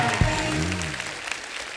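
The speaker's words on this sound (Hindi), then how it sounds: "मेरा मामा के लिए जोरदार ताली हो जाए गोविंदा जी के।" Loud studio audience clapping on a comedy talk show, a dense burst of applause that lasts under two seconds.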